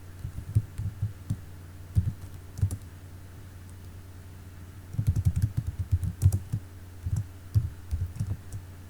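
Code is being typed on a computer keyboard, a close run of quick, soft key clicks in irregular bursts, steady for a moment, then a short pause, then a denser flurry, with no talking.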